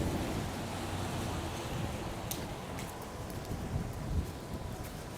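Strong wind buffets a vehicle during a bouncy drive along city streets on a December day, a steady broadband roar with low rumbling gusts and a few brief higher rattles throughout.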